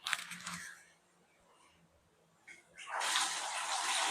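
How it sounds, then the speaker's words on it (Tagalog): Water gushes from a tap in a tiled campsite bathroom with a bucket, a brief splash at the start, a quiet pause, then a strong steady hiss of flowing water, close by. "tingnan natin yung pressure ng tubig"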